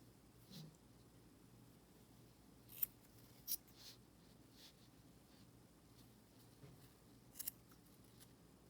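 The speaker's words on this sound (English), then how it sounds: "we'll cut these strands, these loops. This is where sharp scissors are better." A few sharp, quiet snips of sharp scissors cutting through yarn loops for knitting tassels, spaced irregularly over a faint background hum.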